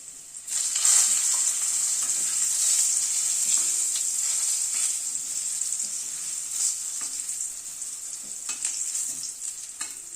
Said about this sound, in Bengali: এবার ওই তেলে আলু আর ফুলকপিটাকে ভেজে নেব।